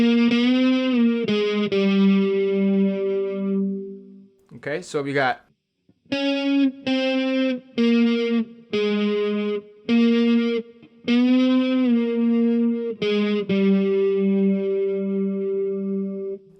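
Distorted electric guitar plays a solo phrase with a bend and release on the third string, loud sustained notes separated by short gaps, with a brief spoken interjection partway through.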